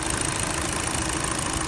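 Car engine idling after a spark plug replacement, a steady dense rumble with an irregular knocking or ticking noise running through it, close and continuous with no voices.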